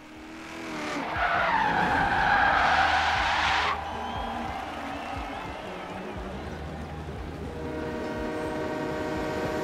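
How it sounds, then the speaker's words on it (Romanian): A train horn sounds during a train race in the driving game Forza Horizon 3, a loud sustained blast in the opening seconds over tire skids and engine noise, then fading into a steady rumble of the race. "Asta e cursă cu tren."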